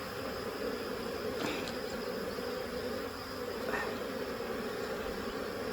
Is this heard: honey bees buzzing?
yes